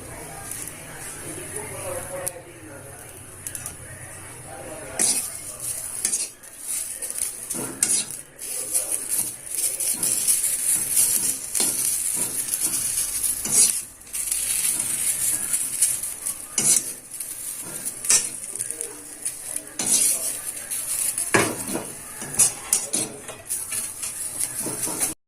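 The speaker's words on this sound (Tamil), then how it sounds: "இப்போ கொத்தமல்லியை நல்லா வதக்கியாச்சு." Coriander leaves are sautéed in a pan, with stirring and metal spoon clinks against the pan over a soft sizzle, and someone talks throughout.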